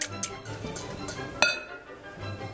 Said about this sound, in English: Then you wanna beat your eggs with a whisk.